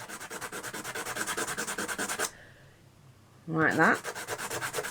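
Hand sanding a wooden egg, rhythmic back-and-forth scratchy rubbing strokes, close and steady, pausing briefly while a voice speaks before the sanding resumes.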